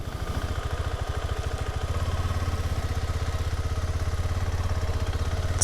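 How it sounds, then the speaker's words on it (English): A KTM 390 Adventure single-cylinder motorcycle engine runs steadily near idle in first gear, a close, even low-pitched thumping pulse with no talking. "Get that bike into first gear."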